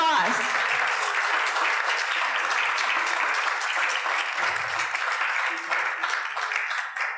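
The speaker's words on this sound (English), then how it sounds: "let's give a round of applause" Lecture audience at St. Lawrence University breaks into lively applause, a bright, dense patter of many hands clapping steadily for several seconds before tapering slightly at the end.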